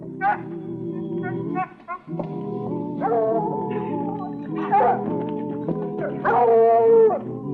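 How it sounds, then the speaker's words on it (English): A dog howls and yelps in long, wavering cries with a short pause near the middle, loud and close, in the setting of a Western cowboy drama. "The dog, he might raise a rumpus"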